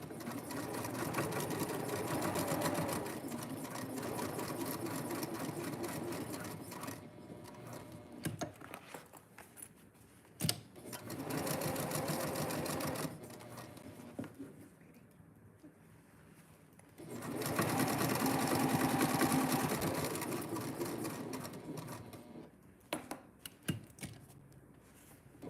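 A sewing machine stitches a seam with a long basting stitch, running steadily in two long, close stretches separated by a quieter pause with light clicks and handling.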